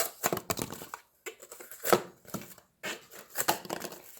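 Thin-edged Smith & Wesson Sideburn knife slicing through material, giving a series of short, crisp cutting strokes in irregular bursts with brief pauses between them, close and fairly quiet.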